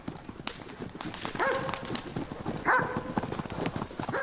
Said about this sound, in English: Here the focus is on ponies, on Konix to be exact.